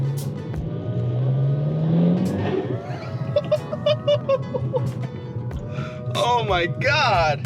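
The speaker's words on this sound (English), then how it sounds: "once the engine RPM goes like above 2000 RPM, you can definitely hear it like sucking air in" A VW Mk5/Mk6 GTI fitted with a CTS Turbo cold air intake accelerates under load past 2000 RPM, the engine note rising with an audible intake suck and whoosh, while a person exclaims over it.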